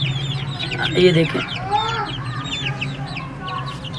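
A hen raising chicks clucks close by, with chicks peeping in bursts around her, among aseel fowl; someone speaks briefly over the sounds.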